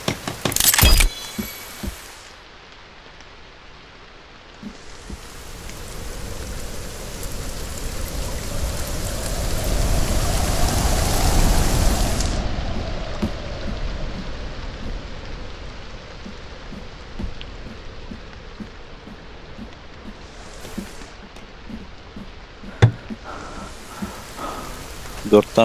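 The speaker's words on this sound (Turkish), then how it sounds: "Yağmur iyidir abi." Steady rain pours down in the survival video game The Forest, a broad, even hiss that swells louder in the middle and then eases, with scattered drop ticks and a few short talking voices over it.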